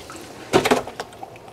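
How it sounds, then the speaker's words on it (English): Clean water is poured into a basin for washing cardoon in a home kitchen: one short splashy gush, a few quick trickles, then a single drip, close and alone. "And we put the clean water."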